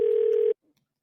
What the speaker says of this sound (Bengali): এতক্ষণ রিং হচ্ছে, তুলছে না কেন ফোনটা?